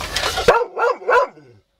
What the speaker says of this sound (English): Just let him bark.